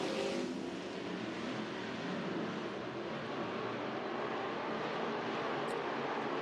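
IMCA modified race cars roar through a heat race at Deuce of Clubs Thunder Raceway in Show Low, Arizona, the engines blending into a steady, distant rumble that fills the whole stretch with no voices.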